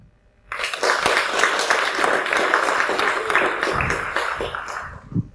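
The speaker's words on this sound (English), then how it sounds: "give him a big applause" Broadband applause from an open-source conference audience starts abruptly and holds steady for several seconds before fading.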